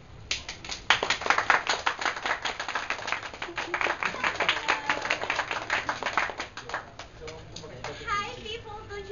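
A crowd at a live game show claps steadily for several seconds, with dense rapid clapping that thins toward the end as a voice starts speaking over it.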